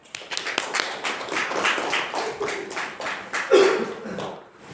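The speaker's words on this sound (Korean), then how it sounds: "우리 이철웅 성도님 박수 한번 쳐드립시다." Church congregation at a Sunday worship service clapping, a scattered run of hand claps that swells unevenly and fades toward the end.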